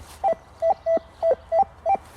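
A Rutus Atrex metal detector in a wild forest gives six short, clear electronic beeps in a steady rhythm, each a bright warbling tone, close and loud over faint background hum.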